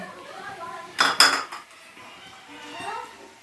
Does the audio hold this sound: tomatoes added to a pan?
yes